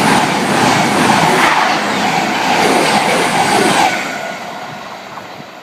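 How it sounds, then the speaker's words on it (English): A cross-country train passes close by in a loud, sustained rumble and rush that holds steady, then fades gradually over the final seconds. "Okay, that was the first train that just came."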